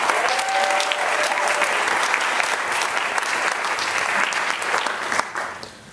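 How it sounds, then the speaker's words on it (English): Audience applause at a Sundance film screening introduction, a dense, steady clapping that fills the room and then tapers off near the end, with no talk over it. "Get some applause."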